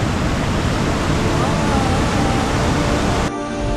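A mountain waterfall and river along the Kedarnath trail produce a loud, dense, unbroken rush of water close by, cutting off abruptly at the end.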